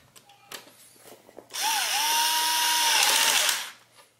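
A power screwdriver whirs for about two seconds, driving a longer screw into a hard drive bay of a Synology DS413j NAS, preceded by a few small handling clicks.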